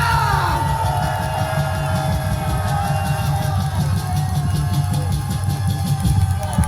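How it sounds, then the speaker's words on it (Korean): A large outdoor crowd at a Gwanghwamun rally roars a sustained cheer of thanks, a loud continuous mass of shouting and whooping over a deep pulsing low rumble. "자, 하나님께 감사의 함성을 보내시기 바랍니다"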